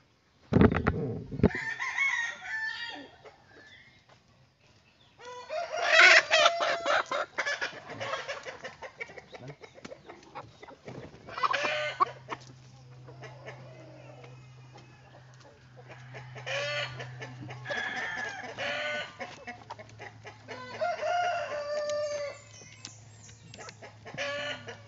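A rooster on a pasture chicken farm crows and clucks close by, with loud bursts near the start and middle and softer clucking and farmyard noise throughout, plus a steady low hum for several seconds.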